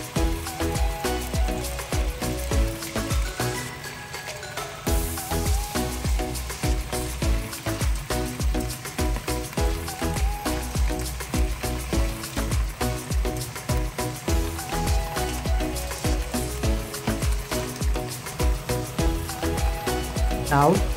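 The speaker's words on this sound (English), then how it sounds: "I'm going to add all the well-rinsed flour clams into the pan. And stir gently to avoid flour clams falling out of the pan." Rinsed flower clams being stir-fried in a pan, giving a steady hiss and sizzle with shell clatter from gentle stirring, heard behind continuous background music.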